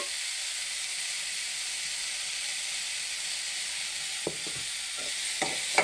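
Ingredients with salt sautéing in oil in a pan for poha upma, a continuous bright hiss of frying with a few spoon taps and scrapes toward the end, nobody speaking.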